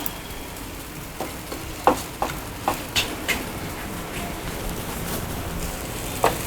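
Methi paratha frying on a hot pan on a gas stove, a soft steady sizzle with scattered small pops and crackles throughout.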